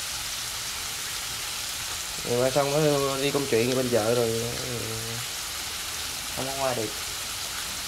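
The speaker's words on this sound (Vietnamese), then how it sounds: "Mưa quá trời mưa luôn." Heavy afternoon rain in the rural Mekong Delta countryside makes a steady, dense hiss throughout, with a voice talking over it for a few seconds.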